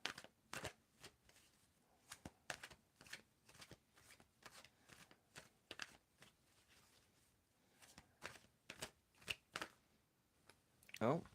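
Tarot cards shuffled by hand in a series of crisp, papery riffles and slaps, fairly close and irregular in rhythm, with a louder burst near the end as cards spill out.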